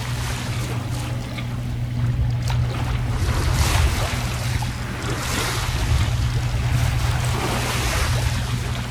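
A sailboat's engine holds a steady 2800 rpm while charging the batteries, its low drone running continuously beneath rushing wind and sloshing waves, with no one speaking.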